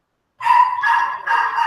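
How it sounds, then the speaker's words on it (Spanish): Small dogs yipping and barking somewhere in the background of an online class meeting, three high-pitched barks in quick succession after a moment of silence, fairly clear and close on the line. "escuchamos por allá unos perritos"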